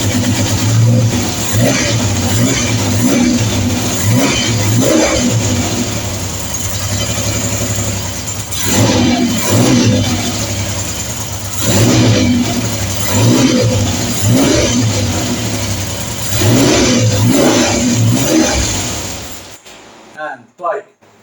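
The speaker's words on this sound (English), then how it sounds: "And bike running perfectly." A Triumph Trident T160 motorcycle engine runs steadily after carburettor adjustment, a loud continuous mid-pitched drone with periodic blips of revving, then it cuts off near the end.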